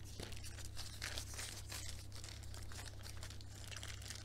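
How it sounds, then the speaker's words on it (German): Baking paper being peeled off a sheet of rolled puff pastry, a steady close crinkling and tearing rustle that runs unbroken for about four seconds over a low background hum. "dann könnt ihr das Papier ohne Probleme abziehen"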